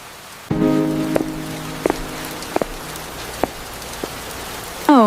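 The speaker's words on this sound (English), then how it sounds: "it is raining very hard outside" Heavy rain falls steadily outside, a dense wash of patter with scattered sharper drops and tapping hits breaking through at irregular intervals.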